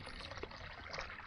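Water poured from above into unglazed clay olla pots being filled for the first time, a steady soft splashing trickle, faint and continuous with no talking.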